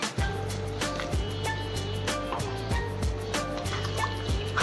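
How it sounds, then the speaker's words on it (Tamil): About a glass of water is poured into a pot of Chettinad chicken gravy, a steady liquid stream with rhythmic splashing and trickling, close and continuous with no talking. "இப்போ நம்ம நல்ல 1 கிளாஸ் அளவுக்கு தண்ணி ஊற்றுறேன் நான்"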